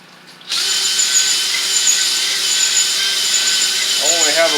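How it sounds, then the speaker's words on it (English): A flathead go-kart engine cylinder is honed with a tool driven by a power drill. After a quiet start, a loud, steady whirring and abrasive rubbing sound kicks in and runs without a break. "let's get started with the honing process"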